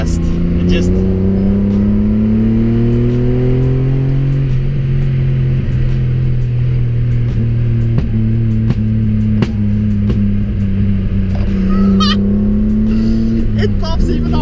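A small car with an aftermarket exhaust drones steadily up close, its engine note sliding slightly in pitch while scattered pops and crackles break through, loud and continuous.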